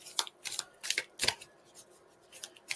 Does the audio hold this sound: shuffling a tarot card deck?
yes